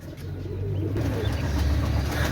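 Pigeons being shown for sale, a pair of hens, cooing continuously at close range over a steady low hum of background noise.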